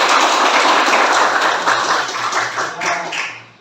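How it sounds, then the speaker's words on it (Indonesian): Schoolchildren in a classroom clap their hands together in a loud, close burst of dense clapping lasting a few seconds, swelling briefly before trailing off quickly at the end. "Boleh tepuk tangan dulu?"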